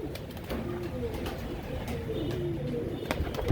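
Royal Teddy pigeons coo softly in repeated low, throaty phrases over a light background murmur, with a brief thump near the end.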